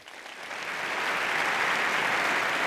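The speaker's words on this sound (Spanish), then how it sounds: "fuerte aplauso para él." An audience at a business conference in Donostia breaks into applause for a speaker taking the stage, the clapping swelling quickly from a few hands into a full, sustained round.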